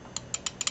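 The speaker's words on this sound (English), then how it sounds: "Tighten up the nuts." Several sharp ratcheting clicks from a wrench tightening nuts on a Tetrix robot kit, five separate bursts spaced irregularly, close and fairly quiet, with no talking.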